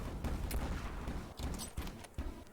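Pistol gunfire in a video game, a quick string of sharp close shots, roughly half a dozen cracks over a few seconds against steady background game noise.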